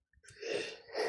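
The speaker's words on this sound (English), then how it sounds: "That was a painful sneeze." A person sneezes once, a sharp breathy burst with a second forceful release, close and alone with no talking.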